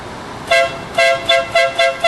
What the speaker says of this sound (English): Want to give me one more honk?